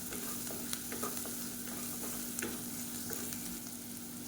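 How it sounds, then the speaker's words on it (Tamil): Potatoes seasoned with chili powder fry steadily in a pan for potato mint rice, a continuous close sizzle with scattered soft clicks and scrapes as they are stirred. "இப்போ உருளைக்கிழங்கு நல்லா வறுபட ஆரம்பிச்சிருச்சு"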